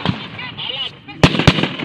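Sniper rifle shots during an armed encounter between NPA rebels and AFP soldiers in Bilar, Bohol, two sharp, loud reports about a quarter second apart, heard after shouting voices.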